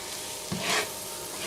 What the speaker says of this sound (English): Mix all the flour in.